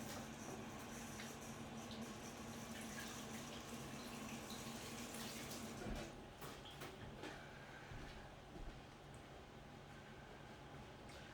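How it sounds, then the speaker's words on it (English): Tap water runs steadily into a kitchen sink for hand washing, a continuous hiss with a brief splashy change near the middle, alone without talk. "and then I need to wash my hands"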